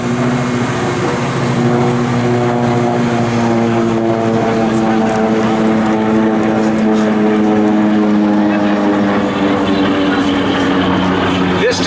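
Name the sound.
SB2C Helldiver propeller aircraft diving past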